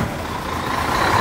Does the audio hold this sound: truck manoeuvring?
yes